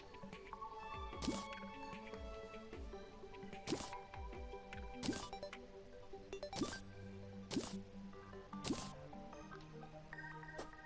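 Lava pouring into a trough in Terraria, heard as a series of soft squishy drip and splash sounds about every one to one and a half seconds over a faint steady background.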